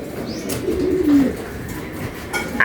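Pigeons returning to their loft give a short soft coo, with faint rustles and a brief flutter around it.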